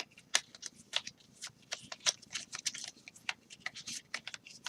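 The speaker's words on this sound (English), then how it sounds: "it's not easy to shuffle when you've only got 10 cards." Rapid, uneven flicks and riffles of playing cards being shuffled close up, a crisp papery patter with irregular bursts.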